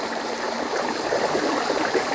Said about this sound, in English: Out here just listening to the water.